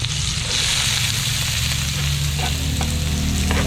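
Sliced onions fry in a pan, giving a steady close sizzle with a few scattered pops and stirring sounds, and there is no talk. The dish is a home-cooked Filipino chili garlic preparation.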